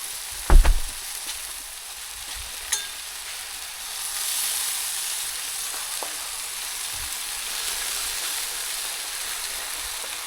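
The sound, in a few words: food sizzling on a hot grill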